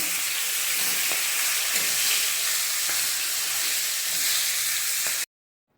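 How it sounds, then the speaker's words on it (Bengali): Hilsa fish heads frying in hot oil, a continuous dense sizzle and hiss close up for several seconds before cutting off abruptly. "ইলিশ মাছের মাথাগুলো আগে ভেজে নেব"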